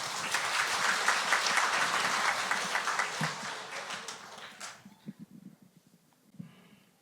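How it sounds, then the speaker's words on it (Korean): Church congregation breaks into sustained, loud applause during a Sunday worship service, the clapping thinning out into scattered, fading claps over the last couple of seconds. "박수 한번 쳐주세요."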